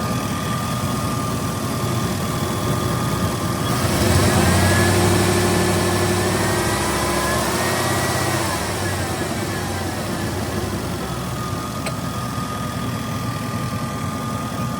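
A pickup truck's engine idles steadily with the cooling fan running, a continuous low rumble and whir that swells briefly for a few seconds midway before settling back to an even drone.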